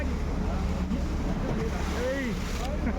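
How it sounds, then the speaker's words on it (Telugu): A ferry boat running at speed from Mumbai to Elephanta, with a steady loud engine and water rush, wind buffeting the microphone, and voices faintly audible over the noise. "ఇప్పుడైతే అది మాకు ముందుగా చిన్న ఫెరీ రైడ్"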